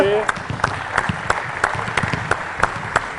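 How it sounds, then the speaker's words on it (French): A small group applauds players after a shooting practice drill, with distinct, evenly spaced claps like a few people clapping in rhythm, close and moderately loud, and some voices in the background. "d'abord applaudir les cobayes, bravo messieurs."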